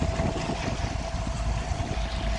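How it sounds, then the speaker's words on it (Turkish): A water taxi boat engine drones steadily with a constant tone, wind and water rushing around it, close and continuous for a few seconds, off the Greek island of Symi. "Buraya da taksi tekne geliyor."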